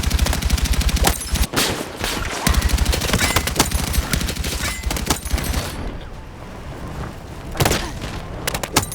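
Sustained automatic fire from the DRS IAR, a rifle that mixes assault rifle and light machine gun, in Battlefield 6: long rapid bursts, loud and near, broken by brief pauses and a few heavier thumps.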